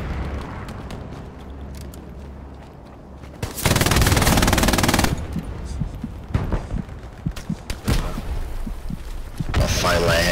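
Bursts of automatic gunfire from a multiplayer military shooter match, a loud sustained volley in the middle followed by scattered shots and clatter, with a dense, noisy background throughout.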